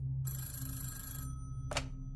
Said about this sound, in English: Phillips's phone rang and he answered it.